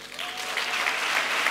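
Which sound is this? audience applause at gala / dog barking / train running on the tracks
audience applause at gala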